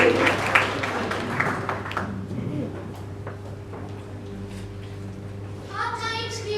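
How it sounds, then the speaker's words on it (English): Applause at a school English declamation contest, a burst of clapping that fades after about two seconds, followed by quiet room tone and faint voices. "Please give a huge round of applause to motivate the students."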